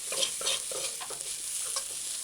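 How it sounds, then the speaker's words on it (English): Soy veggie mince for a sloppy joe being stir-fried over low heat, a rhythmic run of spatula scrapes over a soft, steady sizzle, close up with no voices. "stir fry the veggie mince like this, and let it stay for a couple seconds"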